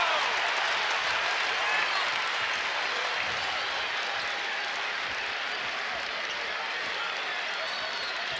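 A basketball arena crowd during a Michigan State at Illinois men's game applauds in a dense, continuous wash of clapping and crowd noise, with a commentator's voice running over it.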